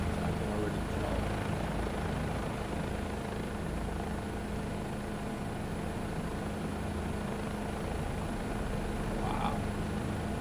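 Bell 407 helicopter in Microsoft Flight Simulator 2024, a steady, continuous rotor and turbine drone holding level throughout, with faint voices mixed in underneath.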